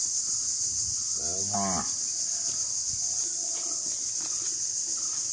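A cow lets out a single low moo nearby in a village, over a steady, high-pitched drone of insects.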